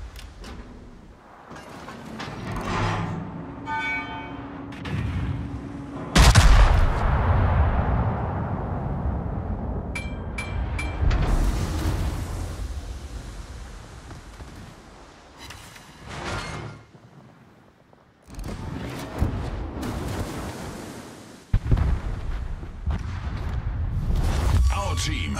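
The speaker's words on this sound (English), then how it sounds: "Concentrate fire on that enemy warship." A Fuso battleship fires its heavy guns in the naval combat game World of Warships. Deep booms and rumbling blasts recur through the battle, and in-game voice announcements are heard over them.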